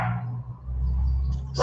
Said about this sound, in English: This is my dog barking for people in the road.